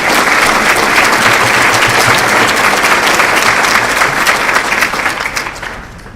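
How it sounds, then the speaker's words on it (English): Banquet audience applauds event sponsors at a Hall of Fame dinner, a steady dense wash of clapping from a large crowd filling the room, holding strong before tapering off near the end. "join me in giving them a warm round of applause to thank them"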